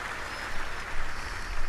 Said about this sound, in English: And gets a huge ovation from this capacity crowd.